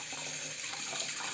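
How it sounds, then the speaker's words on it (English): A razor is held under a running tap for a short, steady rinse, the water hissing and splashing continuously up close. "Quick rinse."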